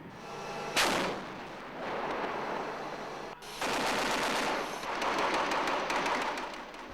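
Heavy gunfire from a firefight with Iraqi Republican Guard forces in northern Iraq in 2003: a sharp close burst, then rolling automatic fire and booming reports, loud and continuous with no talking.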